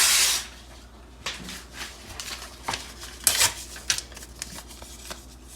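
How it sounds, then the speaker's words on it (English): A piece of paper is ripped close by in a series of short, sharp tearing bursts after an initial loud rustle, with quiet pauses between the tears. "I'm going to rip a piece of paper."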